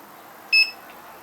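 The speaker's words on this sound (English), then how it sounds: "Press call to confirm. We can see the beep sound." A Retekess TD167F restaurant paging keypad gives a single short, clear electronic confirmation beep, close and alone against faint room hiss.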